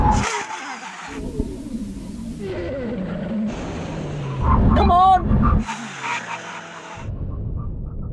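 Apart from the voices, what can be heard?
cars emergency braking from 100 mph, tyres skidding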